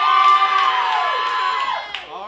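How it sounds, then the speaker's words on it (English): Audience in a game-show studio voting for Felicity Feline with a burst of loud cheering and whooping, with children's shouts among the crowd, sustained and fading near the end. "If you think it's Felicity Feline, clap now."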